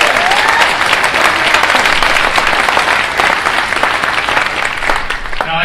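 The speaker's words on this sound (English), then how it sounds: "which, by the way, let's give another round of applause to Senator Jones." A symposium audience claps and applauds steadily and loudly throughout, a dense wash of hands that holds without pause before tapering at the very end.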